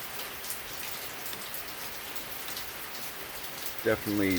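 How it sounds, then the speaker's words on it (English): Steady rain patters on a surface throughout, a soft continuous hiss of drops, with a voice briefly starting to speak at the very end. "it's raining"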